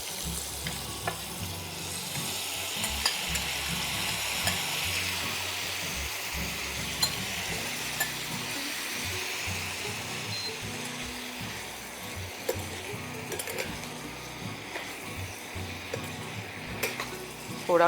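A pineapple mixture goes into a hot pan with asafoetida seasoning and fries with a constant loud sizzle for a curry. A spoon scrapes and clinks against the pan as it is stirred at close range.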